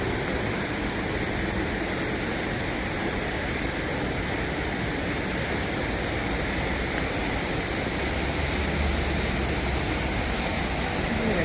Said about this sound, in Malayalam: കണ്ടോ ഇത് ഭംഗിയല്ലേ വെള്ളം ഒഴുകുന്ന കാണാൻ